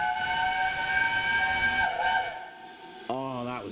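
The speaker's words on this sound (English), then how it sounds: "Oh, that was a good whistle." A steam locomotive on the Bluebell Railway blows a long, bright whistle on a cold December day, clear and fairly close. A second, shorter wavering whistle tone follows near the end.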